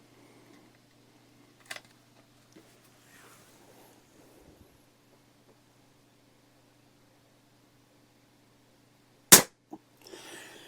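A Crosman 1400 .22 caliber pellet air rifle fires a single sharp, loud crack near the end, after a fainter click earlier, with quiet handling noises around it.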